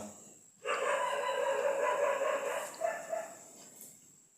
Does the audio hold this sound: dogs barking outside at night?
yes